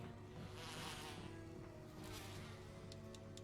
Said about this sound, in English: Here comes these clown-ass bees.